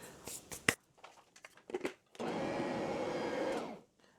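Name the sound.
electric mixer mixing cinnamon and salt batter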